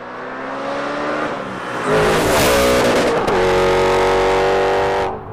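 A supercharged Audi RS4 B7 with a Milltek exhaust revs up hard: a low idle climbs into a loud, sustained rasping howl, holds near full volume for several seconds, then cuts off abruptly.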